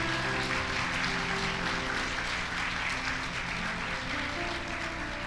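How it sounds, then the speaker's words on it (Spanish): A church congregation applauding during a sermon, a continuous, moderately distant spread of clapping from many hands that holds steady for several seconds. "¿Cuántos aplauden el nombre del Señor?"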